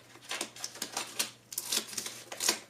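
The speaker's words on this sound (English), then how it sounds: "Grab some scissors, and we're going to cut" Scissors cutting through a woven grain bag for a tote, a run of crisp snipping and rustling strokes in quick irregular bursts, close and fairly quiet.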